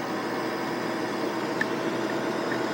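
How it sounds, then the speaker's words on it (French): An electric car's air conditioning compressor gives continuous mechanical whirring with a steady hiss, an even compressor-like drone close by, with one faint click near the end. "On entend différents sons lorsque la climatisation fonctionne."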